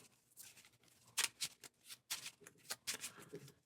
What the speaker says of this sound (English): Shuffle those in.